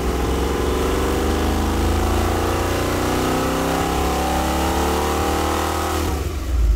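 A Mondello-built 455 Oldsmobile big block V8 on a dyno, revving steadily upward in one long, loud, continuous pull with rising engine pitch that drops off at the end, close and alone.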